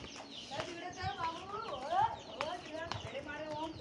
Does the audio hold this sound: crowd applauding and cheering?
no